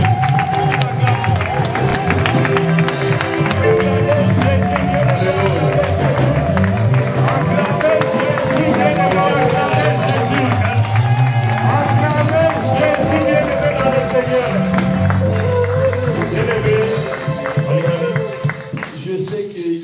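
A church congregation in Beauvais cheers, claps and shouts to acclaim the pastor, a loud continuous crowd roar with music and voices mixed through it.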